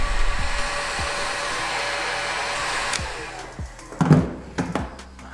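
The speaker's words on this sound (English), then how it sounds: "Take the shrink wrap tube and of course place it over the wires and apply some heat." A heat gun blows a steady whooshing roar while shrinking heat-shrink tubing over wires, running continuously for about three seconds before cutting off, followed by a few close handling clicks and knocks.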